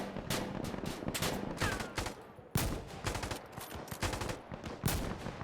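Short bursts of automatic gunfire in the video game Insurgency Sandstorm, clipped rapid strings of shots repeating one after another, close and punchy with no talking.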